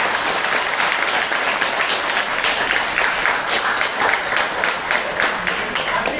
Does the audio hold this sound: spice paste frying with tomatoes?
no